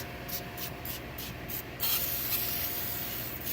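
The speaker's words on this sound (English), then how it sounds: "So I'm going to spray it down with some battery terminal cleaner" An aerosol can of battery terminal cleaner hisses onto a Chevrolet Cruze battery terminal in several short bursts, then one longer continuous spray, close by with no talking.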